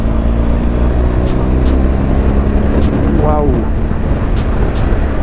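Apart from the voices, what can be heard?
BMW GS Adventure motorcycle engine accelerating in sixth gear while overtaking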